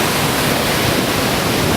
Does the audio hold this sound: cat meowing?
no